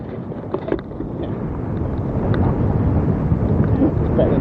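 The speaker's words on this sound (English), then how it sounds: "Very windy." Strong wind buffeting the microphone, a loud low rumble that swells and gusts throughout with no voices.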